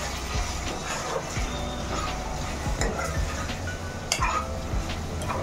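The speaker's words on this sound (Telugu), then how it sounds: "కారం వేసుకున్నాక కలుపుకోండి ఇలాగా" A spoon scrapes and stirs through a tomato curry with chili powder and chicken with drumsticks in a pot, soft irregular scraping and clinks over a gentle sizzle, fairly quiet and close.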